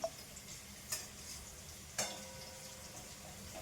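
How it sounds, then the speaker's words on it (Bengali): Potatoes frying in a pan make a faint, steady sizzle, broken by two brief sharp clicks partway through. "এই আলুগুলো ভাজা হোক"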